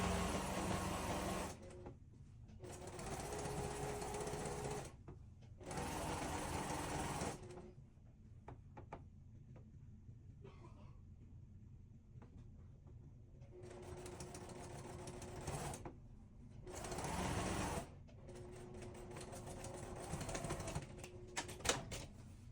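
A sewing machine stitches two fabric star halves together in several loud, steady bursts of rapid whirring, broken by short quiet pauses between runs.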